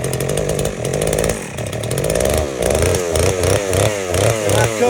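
A chainsaw cuts a bevel into wood, its engine loud and close, rising and falling in pitch as the cut bogs and revs in a quick pulsing rhythm, with no voices.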